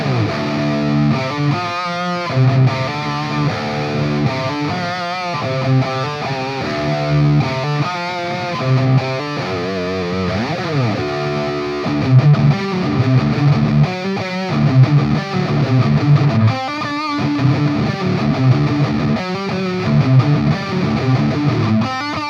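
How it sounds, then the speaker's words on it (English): Heavy, high-gain distorted electric guitar riffs through a Bogner-style amp model on a Fender Tonemaster Pro, played loud and continuous, thick chugging chords with sustained notes. "very big, very aggressive distortion sounds in this"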